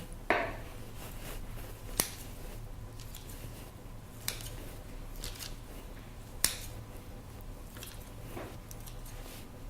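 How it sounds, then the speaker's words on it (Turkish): Kitchen scissors snip homemade mini bread dough just before baking, giving four sharp, well-spaced clicks over a soft, steady room hiss with no voices. "Fırına girmeden önce ekmeklerime son dokunuşu mutfak makasıyla yapıyorum."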